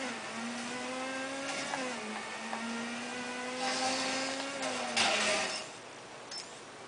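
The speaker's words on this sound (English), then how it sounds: "you have to drift your bike in that turn" A motorbike engine in Midnight Club: Los Angeles hums at a steady, sustained pitch that dips and shifts as the bike drifts through a turn, fairly faint, with a brief louder swell near the end and no talking.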